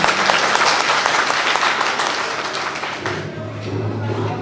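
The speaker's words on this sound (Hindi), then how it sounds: "उसके लिए सभी लोग ताली बजाएं, बहुत तरीके से तालियां बजाएं आप लोग।" A gathered group claps loudly and continuously, a thick close wash of applause that thins and fades toward the end.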